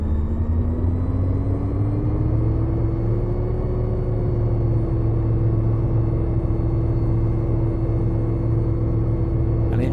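OH-6A / Hughes 500C helicopter turbine in a flight simulator, a steady low engine rumble with a whine slowly rising in pitch as throttle is added.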